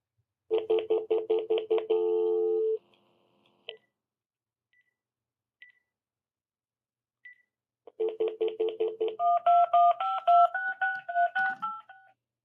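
Rapid series of telephone keypad tones, loud and close, in two bursts separated by several seconds of near silence; the second burst steps through distinct pitches.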